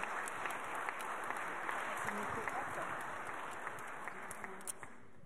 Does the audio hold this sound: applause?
yes